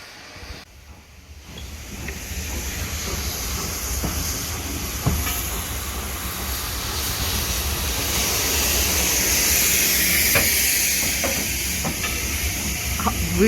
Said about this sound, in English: I'll take some footage of both trains and then we'll hop on the other one from Weybourne to Holt